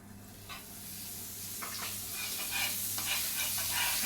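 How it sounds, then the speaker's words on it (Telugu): Rolled chicken frankies fry in melted butter on a pan, a soft, even sizzle that builds slightly, broken by light scraping and utensil taps, with no one talking. "ప్యాన్ ఒకటి పెట్టుకొని కొంచెం బటర్ వేసి"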